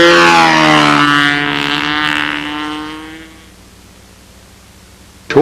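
A control-line model airplane on a windy flying field drops its engine pitch in a loud, falling whine as it comes in to land, then fades to faint wind noise before a sudden thump at the end.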